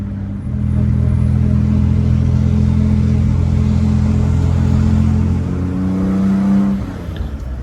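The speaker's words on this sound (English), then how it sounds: "we start cruising up through the gears and continue to warm the engine up" A 1962 Aston Martin DB4 Series IV coupe accelerating up through the gears onto an expressway in traffic: a loud, close, steady engine drone that rises in pitch, then eases off near the end.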